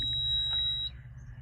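A Hyundai PC250 excavator's warning alarm sounds after powering up, a steady high electronic tone held nearly the whole time over a low idle hum, fairly close.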